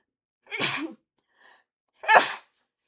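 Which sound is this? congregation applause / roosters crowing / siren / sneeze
sneeze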